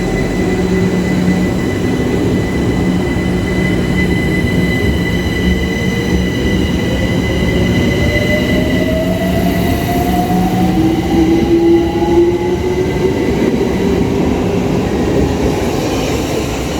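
A Networker electric train rolls past at close range at Queens Road Peckham station, a loud steady rumble with rising motor whine and faint wheel squeal, no voices.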